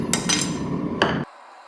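A hammer strikes a steel kitchen knife blade being forged, three ringing metallic blows spaced unevenly over a low rumble that cuts off abruptly afterward.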